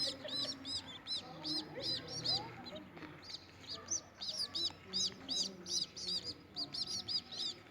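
Baby pigeons chirp in a steady series of short, high, repeated calls, close by, with a low background murmur underneath.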